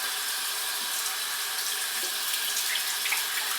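Hot water runs steadily from a kitchen tap into a sink to wash canning jars, a continuous close hiss and splash of the stream with no talking.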